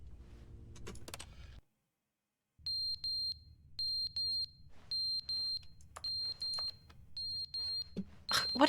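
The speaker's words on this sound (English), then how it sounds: "What is that beeping?" Repeated electronic alarm beeping in The Stanley Parable video game, sounding in regular bursts of rapid high-pitched beeps after a short silence, fairly loud and alone over a low background hum.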